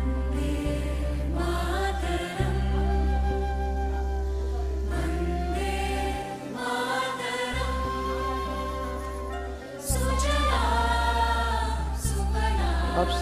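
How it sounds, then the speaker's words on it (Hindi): The song Vande Mataram plays at a sped-up tempo in a music practice app, with sustained melodic instruments over a steady heavy low drone that briefly drops out, moderately loud and without speech. "और यहाँ पर ये गाना है वंदे मातरम वाला।"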